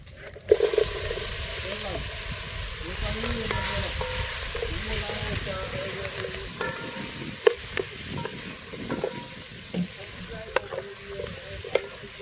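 Coconut milk curry in a pot for a Jamaican-style blue crab cookout, sizzling and bubbling up close while a spoon stirs and clinks against the pot in scattered knocks.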